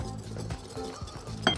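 Yogurt and flour being mixed in a bowl for a yogurt cake, with soft repeated scraping and clinking of a utensil against the bowl, fairly quiet and close, with a sharper clink near the end.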